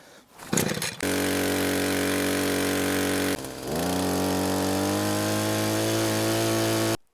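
A small engine roars loudly at steady high revs, briefly dips, then runs on with a churning drone as the auger mixes.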